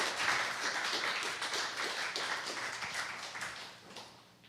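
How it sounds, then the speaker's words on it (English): Dense audience applause at a startup talk event, many hands clapping steadily and fairly close, slowly tapering toward the end with no talking. "Another round of applause."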